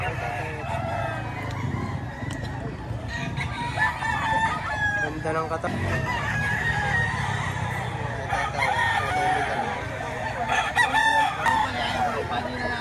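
Roosters crow repeatedly at a busy chicken market in Lipa, Batangas, several birds calling over each other amid clucking and crowd noise, with people talking nearby.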